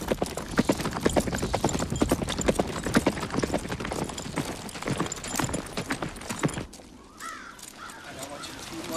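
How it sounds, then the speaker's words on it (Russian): Horses' hooves clip-clop in a quick, busy rhythm, loud and close, then stop abruptly, leaving quieter ambience with crows cawing. "Седлаем коней, малышка, мы уезжаем."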